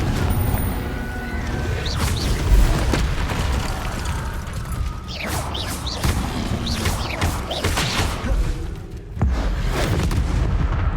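Confringo fire spells bursting in the Hogwarts Legacy video game, a run of sharp blasts and booms with whooshing casts and crackling impacts scattered through dense battle noise, no voices.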